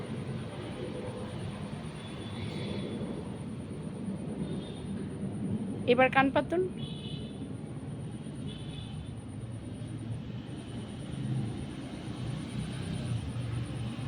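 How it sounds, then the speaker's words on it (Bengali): An airplane passes far overhead as a low, broad rumble that swells and fades beneath constant shrill cricket chirring in a village evening, with a few bird chirps midway and a brief voice speaking. "আবার প্লেন যাচ্ছে"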